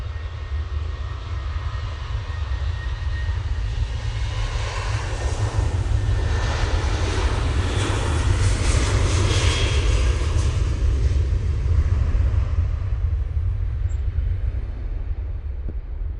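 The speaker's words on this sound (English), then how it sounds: "let's see if this Jet2 to Rome gets to turn and burn" A Jet2 jet airliner bound for Rome takes off at Manchester Airport with a powerful, continuous engine roar and a deep rumble. The roar swells toward the middle and then fades slowly as the aircraft climbs away.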